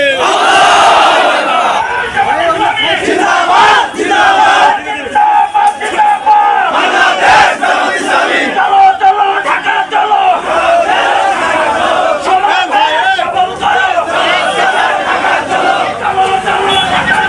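A large political rally crowd in the street chants loudly in unison in answer to a Takbir call, forceful repeated shouts rising and falling over several seconds, dense and close.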